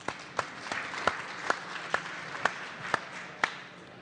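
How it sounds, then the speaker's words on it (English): Sparse clapping at a trading symposium, a few distinct claps spaced about every half second over a quiet room, faint and unhurried, with no one speaking. "So please give yourself a round of applause."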